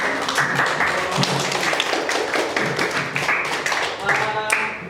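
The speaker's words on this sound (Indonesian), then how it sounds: "boleh kita berikan tepuk tangan untuk" A group in a classroom applauding the first presenting team at an art theory class. Dense, moderately loud clapping runs throughout, with some murmuring voices underneath.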